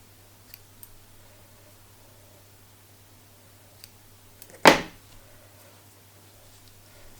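Scissors make a single close snip trimming wool ends on a needle-felted animal face, with a few faint ticks before it in a quiet room.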